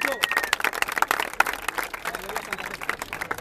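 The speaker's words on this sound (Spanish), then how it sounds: "¡Vamos, un aplauso, guacho!" A crowd at a rap battle final in Santa Fe claps in a brief, uneven burst of applause, with voices shouting over and among the clapping.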